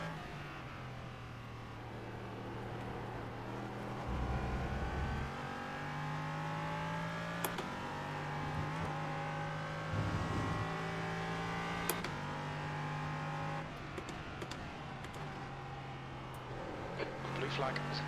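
An LMP3 prototype race car engine in a racing game drones steadily and rises in pitch through each gear, with several sharp shifts. A voice talks over it throughout.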